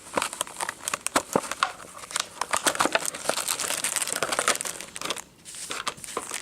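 Plastic blister-pack packaging of Perry Miniatures Fallschirmjäger figures being broken open, a close run of sharp crinkles, cracks and crumples that thins briefly near the end, with no talk.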